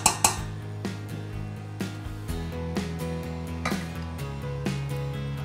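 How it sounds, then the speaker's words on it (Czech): Rice tipped into a pot of cream with cane sugar and vanilla, then stirred: a few sharp clinks of a utensil against the pot at the start and scattered knocks over a steady low hum, no talking. "A nyní můžeme přidat i rýži."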